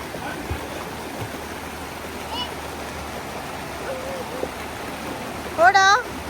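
Stream water flows in an even, continuous rush at moderate loudness, with a brief voice breaking in near the end.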